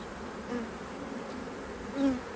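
Honey bees buzz around an opened hive recovering from swarming, a dense steady drone with a few individual bees passing close.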